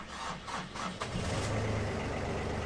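A sailboat's auxiliary engine, fitted with a spare alternator, cranks in a few rhythmic bursts, then catches and settles into a steady, loud, close idle.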